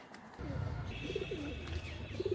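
Pigeons in a loft murmur low coos amid a faint, steady background hum, quiet and close-ish, with no clear voices over them; one bird may be sick with a cold.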